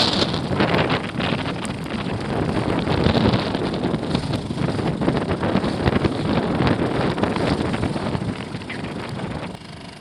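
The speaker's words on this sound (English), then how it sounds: "There's going to be some wind noise here in a minute" Heavy wind buffeting the microphone while an 8-foot Walker Bay dinghy motors into wind, snow and ice pellets: loud, continuous rumbling gusts that roar without pause for the entire stretch, with no talking.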